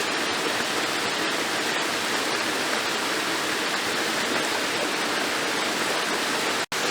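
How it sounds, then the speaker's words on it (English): A loud, unbroken rush of Breakneck Falls pouring over rocks at low water, dense and steady throughout, with no voices. "Breakneck Falls cascades down these rocks."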